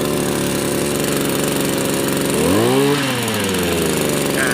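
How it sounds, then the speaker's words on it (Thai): A used Japanese Kyoritsu 241 brush cutter's small two-stroke engine runs steadily and loudly, its buzzing pitch rising briefly midway before settling back to a steady drone. "เดี๋ยวให้พี่หนึ่งดึง สตาร์ทดูเบา ๆ"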